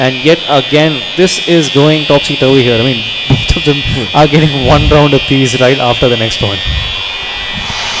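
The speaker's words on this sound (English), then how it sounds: "I guess the mollies actually trigger the fire alarm there." A persistent high electronic fire alarm tone, set off by molotovs in an esports match, drones steadily beneath loud, energetic commentary from someone talking almost nonstop.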